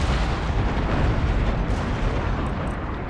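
Ship cannons firing chain shot in the video game Empire: Total War naval battle, a loud continuous barrage of booming, overlapping gunfire rumbling throughout without pause.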